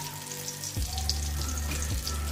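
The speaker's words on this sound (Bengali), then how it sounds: "একে একে এই ধোকাগুলো ভেজে নেব।" Peas dhoka, small pea-paste cakes, frying in hot oil in a small kadai, a steady close sizzle that swells louder partway through and keeps crackling to the end.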